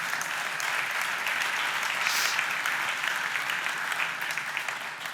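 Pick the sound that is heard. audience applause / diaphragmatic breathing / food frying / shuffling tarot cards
audience applause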